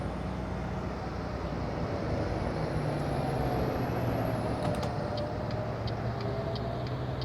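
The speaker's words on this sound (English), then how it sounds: "Wow, that coach is loud." Steady, loud engine drone of a coach in a truck-driving simulator, a continuous low rumble that holds through the whole stretch with a high whine sweeping across it and faint ticking near the end.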